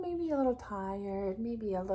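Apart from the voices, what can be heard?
No distinct noise like a dog, phone or traffic.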